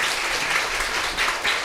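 A church congregation claps steadily and energetically to welcome a pastor, a dense wash of applause that carries on without a break.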